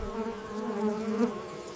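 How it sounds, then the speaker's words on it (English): Honey bees fan their wings inside a hive, producing a steady, close droning buzz with a tonal hum that swells slightly near the end. "Inside, bees convert nectar to honey, fanning wings to evaporate water."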